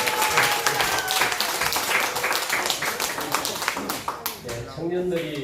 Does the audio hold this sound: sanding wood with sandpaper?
no